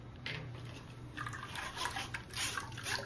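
Grated fresh coconut is squeezed and strained to extract coconut milk, giving faint, close dripping and trickling of liquid falling in uneven spurts.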